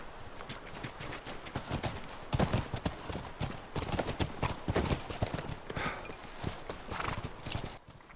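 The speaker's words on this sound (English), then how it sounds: "Come on, back to the horses." Horse hooves clip-clop steadily and fairly close in The Last of Us Remastered video game, a continuous rhythmic walking pattern of hoof strikes with no talking.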